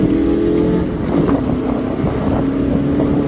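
A bright 1996 Fiat Barchetta Adria facelift convertible drives past a bus stop, its engine droning steadily and close with a rumbling low tone under buffeting wind noise, with no talk.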